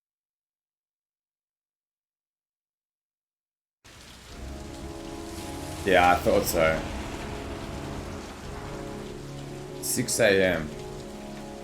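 Steady rain hisses in the video game Heavy Rain, starting after a few seconds of silence and continuing as a constant wash while someone speaks briefly twice over it.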